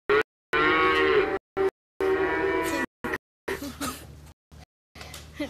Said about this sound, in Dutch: Een koe dus, of meerdere